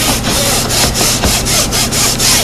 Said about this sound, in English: show you how to clean that with a bathroom scrub net.